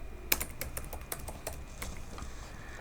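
Fast keystrokes on a computer keyboard while a code comment is typed, an irregular patter of close, light clicks with one sharper tap near the start and no voices.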